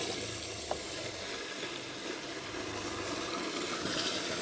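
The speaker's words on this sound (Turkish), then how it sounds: "görmüş olduğunuz gibi pompamız çok güzel bir şekilde çalışıyor" A homemade electric water pump built from a dishwasher motor circulates water in a continuous, close rushing splash with a steady hum-like bed and no breaks.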